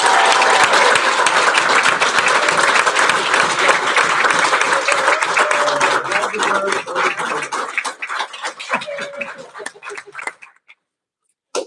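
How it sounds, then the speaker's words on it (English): Applause rings out for award winners at a graduation ceremony, with a big crowd clapping loudly and steadily before the claps thin into scattered individual hands and stop. "If we could have another round of applause for all of them"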